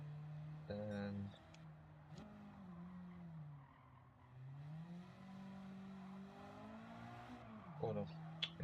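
A race car engine in Gran Turismo 7 revs and drones steadily, pitch rising and falling under throttle with brief tire squeal, heard under a person talking.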